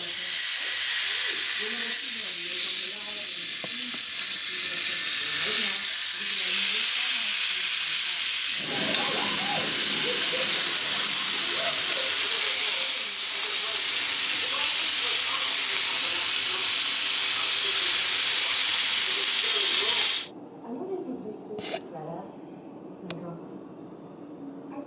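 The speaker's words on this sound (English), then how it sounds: "Right now I'm about to throw some steaks on the grill and wait for the heat up." Steaks sizzle on a hot grill, a loud, steady, broadband hiss that runs without a break for about twenty seconds. It then cuts off abruptly, leaving quieter background and faint clatter.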